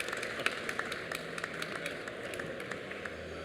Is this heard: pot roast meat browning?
no